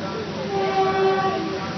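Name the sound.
expo train at Sri Lanka train station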